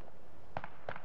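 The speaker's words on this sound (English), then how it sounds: "I hear gunfire" Two short, sharp bursts of gunfire from the online shooter game Dirty Bomb ring out over a steady background hum, with a brief pause between the volleys.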